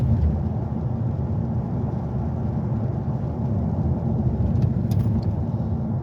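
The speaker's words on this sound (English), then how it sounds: "Has a small exhaust leak up in the intake manifold. I can hear it when I take off." Steady interior drone of a 1979 Lincoln on the road, its engine with a small exhaust leak at the intake manifold, a low, even rumble and road roar that stays constant throughout, with a brief light chime near the end.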